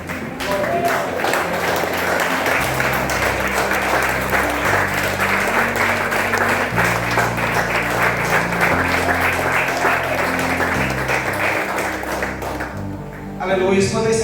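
A church congregation stands and applauds during a Mother's Day Sunday worship service, steady loud clapping over music throughout, with voices mixed in.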